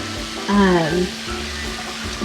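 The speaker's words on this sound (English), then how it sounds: "just making sure that this all looks really good, browning that meat up" Ground meat browns in a hot pan with steady loud sizzling and frying. A brief voice cuts in near the start, then the crackle carries on alone.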